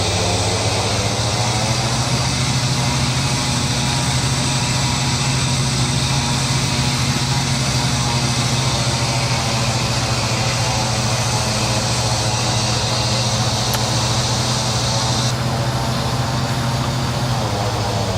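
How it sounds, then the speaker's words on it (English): A steady aircraft left engine drones at idle after start-up, a low constant hum with a high whine above it, running unchanged for the whole stretch with no voices. "it sounds like the left engine has stabilized"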